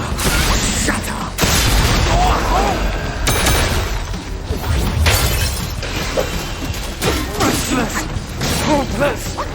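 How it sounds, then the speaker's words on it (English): Something shatters during a boss fight in the video game Black Myth Wukong, with loud crashing bursts and booming impacts layered over dramatic game sound and voices. "This is now about to shatter."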